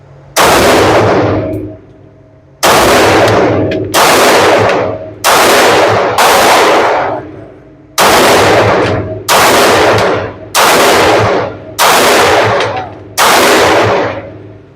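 Ten loud, sharp gunshots come from a Palmetto State Armory Rock 5.7x28 pistol, each a close crack with a ringing tail, fired at uneven intervals of roughly one to two seconds with brief pauses between.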